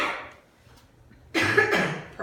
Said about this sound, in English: Now I want you to do a nice strong cough for me like this.